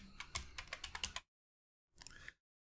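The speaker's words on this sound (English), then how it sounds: "simply type in Divi Enhancer" Rapid keystrokes on a computer keyboard patter in a quick burst, then stop, followed by a shorter second run of taps, close and clear.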